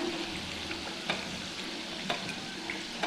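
Muthia, Indian gram-flour dumplings, deep-fry in hot oil over a medium flame with a continuous close sizzle and a few faint pops, and no talking.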